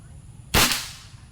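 A single sharp crack from an air rifle fitted with a newly replaced regulator fires close by and decays quickly into a brief tail, with quiet surroundings before and after.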